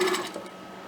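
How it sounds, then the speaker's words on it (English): A sewing machine stitches trim onto a seam in a brief, steady mechanical whir, close and alone. "keeping it turned under while I'm sewing my trim on"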